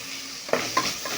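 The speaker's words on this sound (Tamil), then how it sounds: "பூண்டோட பச்சை வாசனை போகிறது வரைக்கும் கிண்டி கிண்டிக்கணும்" Garlic and tomato frying in oil for chicken biryani, with a steady sizzle and a couple of short scraping stirs near the middle of a brief moment, no voices.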